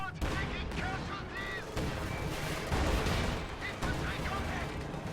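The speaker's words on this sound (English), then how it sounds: "T-34 is taking shots at range." A T-34 tank trading fire at range in a WWII real-time strategy game, with continuous dense battle noise of gunshots and artillery bursts layered over rumbling engines.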